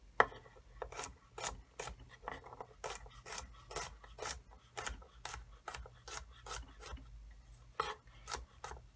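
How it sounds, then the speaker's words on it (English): Kitchen knife chopping garlic cloves into smaller pieces on a cutting board, a quick irregular run of crisp close taps and scraping strokes, fairly faint, with no talking. "now that we've got all the garlic cut up into smaller pieces"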